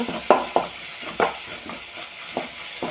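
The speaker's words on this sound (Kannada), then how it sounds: "ಟೊಮೆಟೊ ಸಾಸನ್ನು ಹಾಕ್ತೇನೆ ಚೆನ್ನಾಗಿ ಮಿಕ್ಸ್ ಮಾಡುವ" A spoon stirring tomato sauce in a pan for pasta: close, repeated scraping strokes at an uneven rhythm, about eight sweeps in a few seconds, over a soft sizzle.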